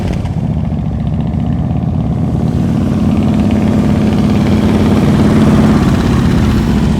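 Motorcycles idling together at an advanced slow-speed riding practice session, a steady loud low rumble held throughout with no talk.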